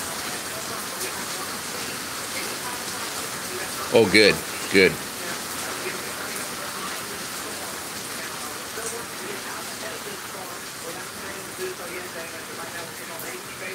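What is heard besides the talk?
rain falling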